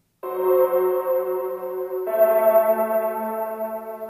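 A lo-fi grand piano sample, crushed by bitrate reduction and downsampling, plays one sustained chord followed by a second, with a thin gritty edge and steady, moderate level and no other sounds.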